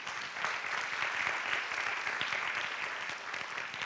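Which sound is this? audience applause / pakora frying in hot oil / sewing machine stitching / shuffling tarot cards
audience applause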